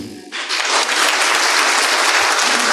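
An audience bursts into applause for Johnny, starting abruptly after a brief lull and swelling into a loud, dense, sustained roar of clapping hands up close.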